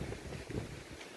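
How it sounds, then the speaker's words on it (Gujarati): Wind blows in under a tin roof, a low, blustery rumble buffeting the microphone in uneven gusts, fairly quiet and brief. "પણ પવન એટલો અંદર આવે"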